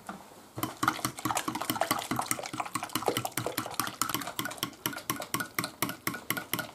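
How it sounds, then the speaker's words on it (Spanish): A homemade orange flan mixture is stirred or whisked in a bowl, giving a steady run of quick, rhythmic scraping strokes close by with no talking. "Y otra vez a mover."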